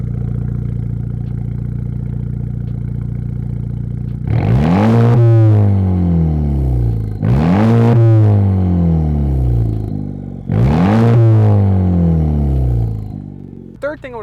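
A 2021 Honda Civic Type R fitted with an aftermarket exhaust idles steadily, then is blipped three times in sharp rev bursts that rise and fall, heard up close with a brief voice near the end.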